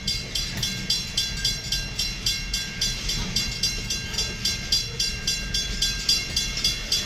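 Freight train rolling along the rails, heard as a steady rumble with a regular clickety-clack of wheels over rail joints at moderate distance, no voices.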